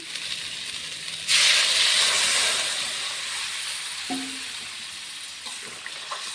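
Water poured onto sizzling spiced vegetables for a potato-cauliflower fish curry triggers a sudden loud burst of hissing steam that slowly fades, followed by a few clinks of a utensil against the pan.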